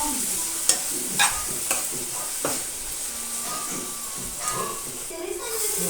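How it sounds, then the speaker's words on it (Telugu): Tomatoes being stirred and fried in a pan for egg keema curry: a steady, close sizzle and hiss, broken by scraping stir strokes and a few sharper clinks of the spoon. "ఇప్పుడు ఒకసారి బాగా కలుపుకొని టమాటా సాఫ్ట్ అయ్యేంత వరకు కుక్"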